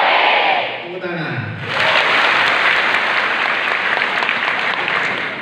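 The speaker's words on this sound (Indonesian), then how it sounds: "Tepuk tangan." Large audience of university students applauding at a civic address in Jember, Indonesia: a dense, loud clapping wash that dips briefly before swelling back to full strength and holding steady.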